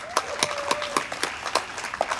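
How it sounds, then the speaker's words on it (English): Scattered, sparse hand claps from a small audience at an outdoor Democratic town committee rally in Ipswich, a handful of distinct claps spaced across a couple of seconds, moderately close. "Yes, let's give them a round of applause."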